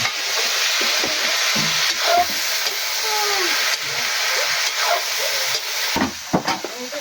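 String beans and bottle gourd are stir-fried in a pan, making a continuous loud sizzle broken by scraping, stirring knocks and a few sharp clanks, with no voices.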